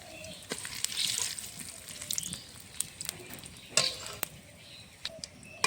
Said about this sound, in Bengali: ফোড়নে দেবো তেজপাতা, সাদা জিরে, কালো জিরে ফোড়নে দেবো।